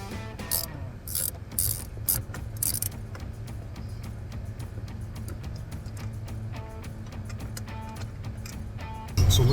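Ratchet wrench clicking while removing front seat bolts in a Jeep Gladiator JT, short bursts of quick pawl ticks with pauses between, close up over a steady low hum.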